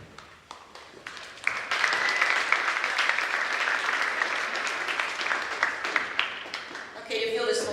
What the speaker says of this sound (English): if you'll just hold your applause till the end